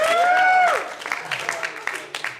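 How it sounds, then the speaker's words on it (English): Audience at a comedy club breaks into applause and cheering after a joke, starting with a whooping voice before a scattered clapping patter carries on steadily. "Applause break on a tax joke."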